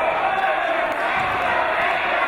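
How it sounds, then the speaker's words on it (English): Wrestling arena crowd at a British wrestling show roaring in a dense, continuous wall of noise, with rival chants for Cruz and Myers blending into one sustained din. "this crowd with dueling chants of let's go Cruz and let's go Myers"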